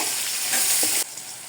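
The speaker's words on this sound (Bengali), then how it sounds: "তো তেলের মধ্যে আগে আলুটাকে হলুদ, লবণ, ধনিয়া গুঁড়া দিয়ে হালকা ফ্রাই করে নেব।" Potatoes frying lightly in oil with turmeric, salt and coriander powder give a steady, close sizzle, with a short stirring scrape before the hiss drops off abruptly near the end.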